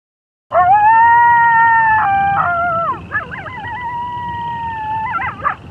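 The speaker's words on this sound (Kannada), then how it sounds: "ಈ ನಾಯಿಗಳು ಬೇರೆ ಎದುರಿಸ್ತಾವ ಕಣಪ್ಪ." Dogs howl in a long, loud, wavering chorus with overlapping pitched voices that rise, bend and fall, close by at night, continuing for several seconds.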